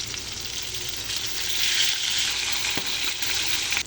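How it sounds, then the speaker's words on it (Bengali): Potatoes frying in hot oil after a batch of fish, giving a steady, fairly loud sizzle and crackle that swells slightly partway through, with no voices. "তেলের মাঝে আলু ভাজিলে দিলাম"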